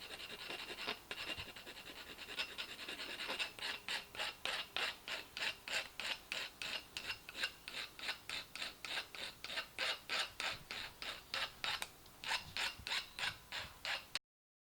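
Trimming a piece away while fitting car battery cables on a 2003 Honda Accord, a close, rhythmic rasping with regular back-and-forth strokes like sawing or filing, steady in pace and fairly quiet.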